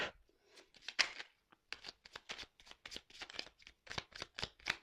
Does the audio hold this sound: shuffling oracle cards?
yes